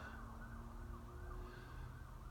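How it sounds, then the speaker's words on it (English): A siren wails faintly in the distance, its rising and falling tone carried over low background rumble. "There's always sirens here."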